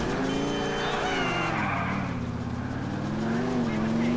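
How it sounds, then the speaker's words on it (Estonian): A revving car engine in GTA IV roars steadily, its pitch rising and falling as it accelerates, with a faint tire squeal in the background. "auto hakkab järjest hullemat häält tegema"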